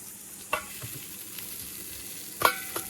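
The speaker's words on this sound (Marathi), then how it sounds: "हे माशाचे तुकडे आता बरे भाजले" Fish pieces shallow-frying in a little oil hiss with a soft, steady sizzle, punctuated by two or three crisp spatula scrapes against the pan.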